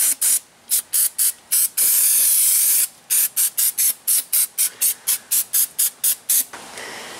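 Short bursts of aerosol brake cleaner sprayed onto a Miata's wheels hiss close by, a rapid series of brief pulses with one long continuous blast in the middle, then quiet.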